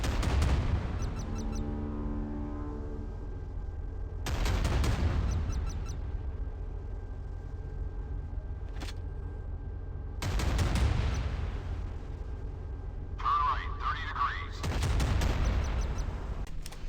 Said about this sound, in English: This is one of my favorite cannons in modern warships.